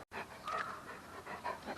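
A dog pants in quick, steady breaths close by in a garage while an owner works on a 1955 Oldsmobile Super 88, the rhythmic huffing continuing alone for a couple of seconds after a brief break.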